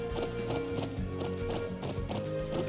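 Horse hooves clip-clopping in the video game The Legend of Heroes: Trails of Cold Steel, a quick even rhythm of close hoofbeats over a soft musical background.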